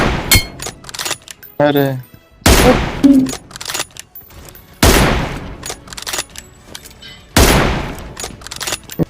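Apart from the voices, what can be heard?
M24 sniper rifle gunshots in BGMI video game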